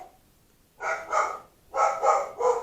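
A dog barks close by in two bursts, a double bark followed by a quick triple bark, loud against a quiet room with no one talking.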